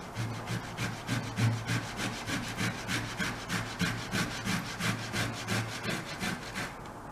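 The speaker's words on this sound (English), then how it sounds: "In this same bowl, we are going to grate these potatoes. Just peel the skin off. Grate with the same holes." Peeled potatoes being grated into a bowl for beetroot tikkis, a steady rhythmic rasping of repeated close strokes throughout.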